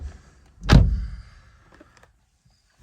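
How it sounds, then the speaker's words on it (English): A single solid thunk as the door of a 2019 BMW M140i is pulled open, followed by a brief low rumble and a faint click near the end. "Let's pull this door."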